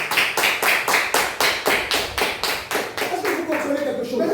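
A congregation at a revival meeting claps in praise, loud, steady and rhythmic at roughly three claps a second, with voices rising under the clapping toward the end.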